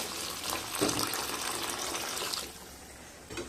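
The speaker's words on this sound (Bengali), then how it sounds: "প্রায় 200 ml মতো জল দিয়ে দিলাম।" Hot water poured into a pan of simmering potol and prawn curry, a steady close gushing pour lasting about two and a half seconds before easing off, with no talking.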